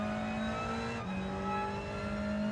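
Hyundai Elan engine in Gran Turismo 7 on track, a steady loud buzzing drone that dips briefly as if shifting gear, then settles back into a sustained rising hum, no talking.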